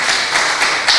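An audience at an engineering conference on smart grids breaks into applause: a brief, loud, dense wash of clapping that holds steady for about a second.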